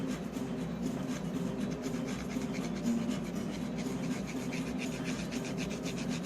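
Polish being rubbed by hand onto a 1987 Nintendo Mystery Quest game cartridge, a close, continuous soft scrubbing and rasping texture with a faint low hum beneath.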